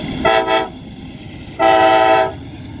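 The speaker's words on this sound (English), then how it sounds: "And we also saw a train." A train horn sounds near the railroad cut at Gettysburg, with two short toots followed by one longer blast. The horn is loud and fairly close, with no talk over it.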